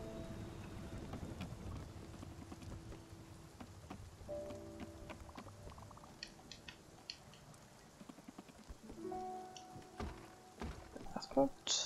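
Electrical thunderstorm in the Spiritfarer video game: steady rain patter with faint rumbles and scattered crackles and pings, under quiet game music and a voice talking over it.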